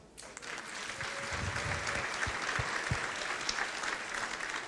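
Audience at a live comedy show in Houston bursts into sustained applause, a dense steady wash of clapping from a large crowd that holds for several seconds without talk.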